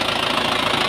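Close-up running engine of a 1997 Isuzu Panther Hi Sporty, a steady dense rumble with a rapid, even knocking pulse throughout, loud and alone without talk.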